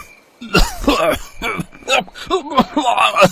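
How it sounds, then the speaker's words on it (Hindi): Cartoon thieves cough and sneeze hard from the smell of chili smoke in a house, with several sharp coughs and throat-clearing bursts coming close and loud, one after another over a few seconds. "जिसकी महक से दोनों चोर तेज तेज खांसने और छींकने लगते हैं।"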